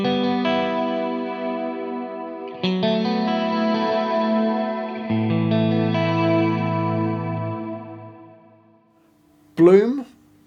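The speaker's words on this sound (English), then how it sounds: "So we've got a swell reverb." Guitar played through the swell reverb setting of a Strymon BigSky pedal: sustained chords fade in smoothly and ring out with a long lush tail, three chords in succession before trailing off, then a brief spoken word at the end.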